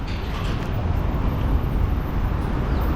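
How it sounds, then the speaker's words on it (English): Busy street traffic in India with buses passing, a steady low rumble of engines and road noise that holds at a constant moderate level throughout, with no distinct horn or voice standing out. "There go the buses"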